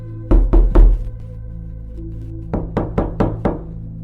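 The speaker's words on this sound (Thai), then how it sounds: "แต่แล้วก็ต้องสะดุ้งตื่นเพราะเสียงเคาะประตูกระจก" Knocking on a glass door: three quick loud raps, a pause, then a run of five lighter knocks, sharp and close with hard, ringing attacks.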